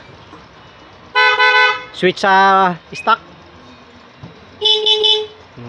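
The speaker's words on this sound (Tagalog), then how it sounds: "Okay, isa pa nga, busina" Dual horn on a Honda RS 125 motorcycle honks in several short blasts: a long toot, a couple of quick beeps, then another toot, loud and close, with someone speaking briefly.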